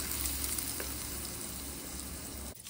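Dal being added to a sizzling pan of chutney made with dosakaya (cucumber), a steady close frying hiss throughout with a brief clatter near the end.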